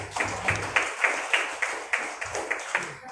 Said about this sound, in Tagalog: O palakpak nga dyan.